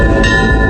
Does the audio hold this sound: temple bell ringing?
yes